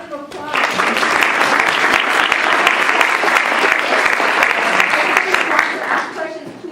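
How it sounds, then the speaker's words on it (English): An audience at a discussion session on American Indian and Alaska Native health bursts into loud, sustained applause, dense clapping that holds steady for several seconds before tapering off. "Please, I want to give a round of applause"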